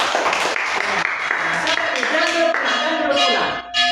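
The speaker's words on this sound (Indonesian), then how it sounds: "tepuk tangan untuk kelompok 2." Elementary school classroom applause for a student group, rhythmic children's clapping mixed with excited voices and singing-like chanting, loud and close throughout.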